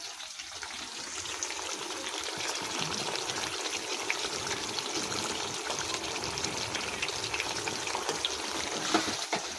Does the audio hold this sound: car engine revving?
no